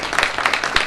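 A panel audience claps in a short, brisk burst of scattered hand claps, close and fairly loud, lasting under a second.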